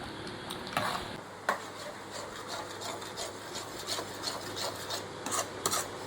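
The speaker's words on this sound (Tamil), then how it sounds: "கட்டி தட்ட விடாமல் அப்படியே கிண்டிக்கிட்டே இருக்கணும்" Spoon scraping and rubbing steadily around a pan as semolina for kesari is stirred to keep lumps from forming, a close, continuous gritty rasp with occasional sharper knocks against the pan.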